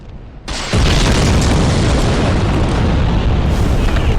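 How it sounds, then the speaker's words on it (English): Giant bombs hurled by an enemy in Dark Souls burst into a loud, sustained roaring explosion that starts abruptly and keeps rumbling at full strength without any speech. "he hurls these giant bombs at you"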